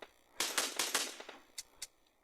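Assault rifle gunfire in PUBG Mobile Lite, a quick rapid burst of sharp shots followed by two separated single cracks, moderately loud against a quiet background.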